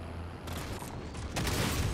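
Distant bursts of gunfire in a PS5 shooter game, muffled and mid-level, a few short volleys with a louder stretch toward the end.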